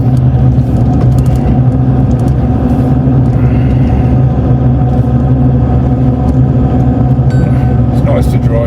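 Steady engine drone and road rumble from a Ford Ranger Wildtrak truck driving, heard from inside the cab as a constant low hum, with faint voices now and then.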